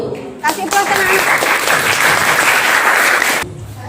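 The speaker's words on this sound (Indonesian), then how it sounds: "Kasih aplaus anak-anak." Children in a classroom break into loud, close applause, a dense burst of clapping lasting about three seconds before it stops abruptly.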